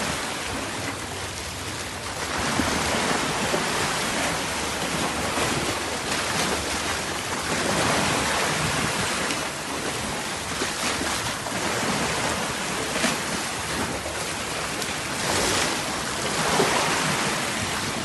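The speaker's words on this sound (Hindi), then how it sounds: "अभी बारिश मज़ीद तेज़ हो गई है" Heavy typhoon rain pours steadily in Hong Kong, a dense continuous hiss of downpour on surfaces and water, with surf-like roar and a passing ferry, loud and unbroken throughout with no talk.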